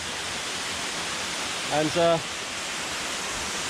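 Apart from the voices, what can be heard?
waterfall at a campsite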